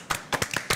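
A handful of separate, sharp hand claps sound close by, sparse and irregular at the start of a welcome for a guest on a talk show.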